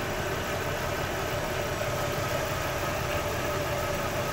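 A 1996 Buick Century's 3.1-litre V6 idles steadily up close, an even mechanical hum with a faint rhythmic ticking, carrying secondary ignition and injector faults that leave it running lean.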